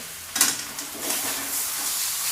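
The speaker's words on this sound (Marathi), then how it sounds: "आणि हे असं परतून घ्यायचं आपण चटणी टाकली माश्यात आणि असे मासे हलवून घ्यायचे सगळा मसाला एकत्र होऊ द्यायचा" Fish pieces being stirred with chili masala in a hot frying pan, a bright continuous sizzle with a sharp scrape near the start, close and fairly loud.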